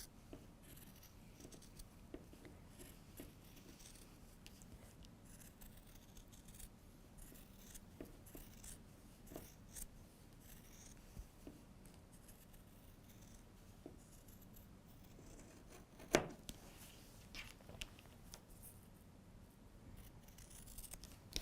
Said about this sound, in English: these Bordeaux scissors by Clover, because they're really made to just cut through anything with a lot of